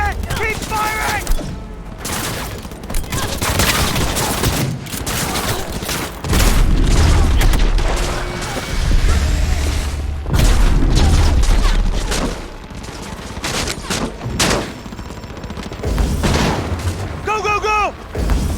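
Gunfire and explosions in the video game Cyberpunk 2077: repeated loud shot bursts with heavy booming blasts throughout, and shouted voices over the fighting.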